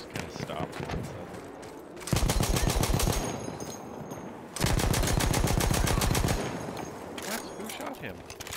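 Battlefield 1 multiplayer gunfire: two long, loud bursts of rapid automatic fire close by, separated by a lull of distant battle noise, with voices faintly underneath.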